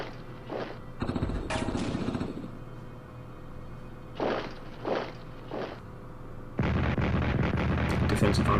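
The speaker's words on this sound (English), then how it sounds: "Rocket artillery on Vitebsk." Rocket artillery fires in the Strategic Command World War II strategy game, a series of short booming launches and rumbling impacts at moderate loudness over a low background hum.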